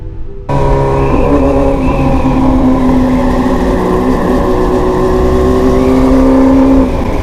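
A loud engine roars steadily and climbs in pitch as it revs hard for several seconds after a brief quiet start, with no voices.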